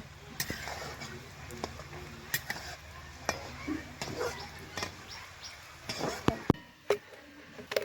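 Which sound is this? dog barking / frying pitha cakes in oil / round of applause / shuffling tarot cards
frying pitha cakes in oil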